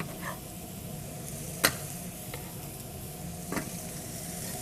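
Fresh garlic sizzles with mushrooms and pork in a pan, a low even frying hiss broken by a couple of brief utensil clicks.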